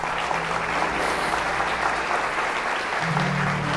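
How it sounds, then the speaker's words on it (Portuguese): A church congregation applauding during a worship service, steady dense clapping that fills the clip, with low sustained organ-like tones underneath that rise near the end. "Aplauda esse Deus."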